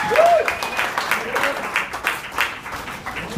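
Comedy club audience on Staten Island applauding and cheering, loud sustained clapping with whoops and voices close by throughout.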